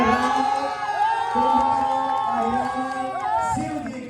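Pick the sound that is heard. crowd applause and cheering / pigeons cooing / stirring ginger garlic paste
crowd applause and cheering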